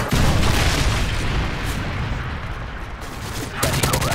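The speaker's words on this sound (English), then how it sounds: "Friendly Predator missile inbound." A Predator missile strike in Modern Warfare 3 sets off a loud, booming blast of explosive rumble that fades, then a fresh burst of gunfire and chatter breaks in near the end.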